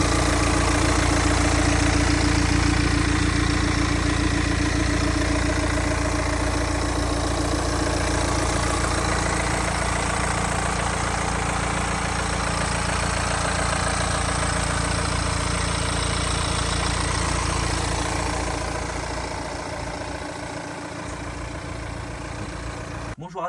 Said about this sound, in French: Je vous laisse écouter le son du moteur,